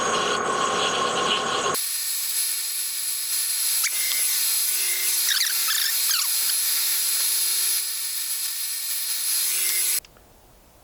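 A metal lathe parts off a bronze bushing, a steady high-pitched cutting whine with squealing tool chatter that holds loud for about eight seconds, then stops abruptly.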